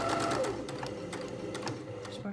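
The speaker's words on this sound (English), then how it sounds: "I'm going to be sewing through the 2 layers, and this is round the top edge of the bag" A sewing machine runs steadily, close and continuous, back-stitching and then sewing through two layers along the top edge of a tote bag, with a faint mechanical hum beneath.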